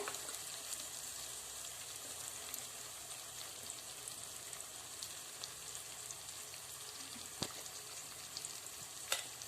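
Coriander powder frying in oil in a pan for egg curry gives a fairly quiet, even sizzle that runs unbroken, with a couple of brief clicks near the end.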